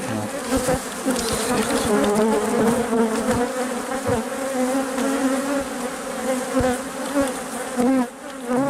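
A dense, steady buzz of many honeybees, drones among them, close by around an open hive during requeening, with individual insects droning past, continuous throughout.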